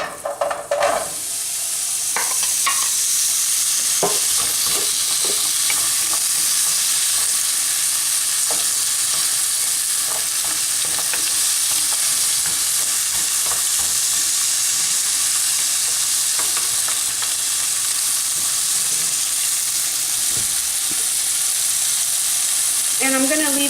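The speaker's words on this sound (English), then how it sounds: "first I'm going to put in the butternut squash because it is the toughest one to cook" Butternut squash frying in a pan, a steady loud sizzle running throughout with occasional scraping and stirring clicks, no talking.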